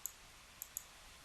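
A computer mouse clicks on a Search button, heard as three faint, crisp clicks: one at the start and two close together a moment later, over quiet room tone.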